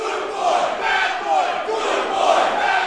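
A wrestling crowd at a Phoenix Rising event in Sydney chants in a loud, steady, rhythmic swell, with many voices joining together and filling the whole moment.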